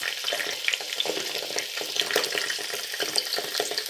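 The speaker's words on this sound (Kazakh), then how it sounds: "қуырып алатын боламыз" Potatoes fry in hot oil in a kazan with a dense, steady sizzle and scattered crackles and pops, close up with no voices.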